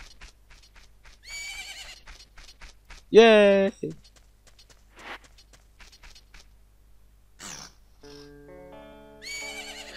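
Epona, the horse in The Legend of Zelda: Majora's Mask, whinnies loudly once, a rising and falling neigh amid game sound effects, with a brief excited shout and scattered chimes.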